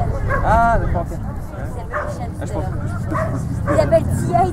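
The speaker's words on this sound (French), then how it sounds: "Ah, c'est le chien." A dog barks and yips repeatedly nearby amid people chatting outdoors at a motorcycle touring gathering, the barks mixed into the talk and background hubbub.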